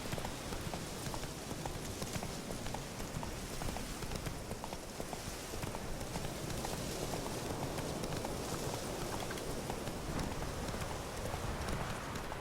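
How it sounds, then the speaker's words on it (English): A horse gallops in the video game Witcher 3, with rapid, steady hoofbeats pounding continuously at close range over a loud wash of ambient noise. "I like the galloping though."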